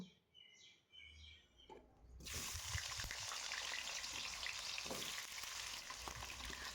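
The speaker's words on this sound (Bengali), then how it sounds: "তেল গরম হলে প্রথমেই আলুগুলি ভেজে নেব" Diced potatoes dropped into hot mustard oil in a kadai for a jackfruit and prawn dish set a loud, steady sizzle going after a quiet start, with occasional stirring clatter and faint birdsong outdoors.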